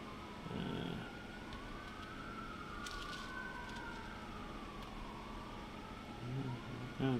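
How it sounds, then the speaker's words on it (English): Emergency sirens wail faintly in the distance, rising and falling in a slow sweep, heard from indoors over a quiet background. "Oh, the sirens going off out there."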